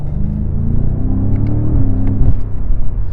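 A BMW M5 Competition (F90) with its twin-turbo 4.4-liter hot-V V8 drones close and loud, its low engine note rising slightly in a short rev with no one talking.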